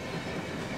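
Freight train, a daily manifest on the Pittsburgh Line, rolling past at close range with a steady, loud broadband rumble and rail noise and no voices.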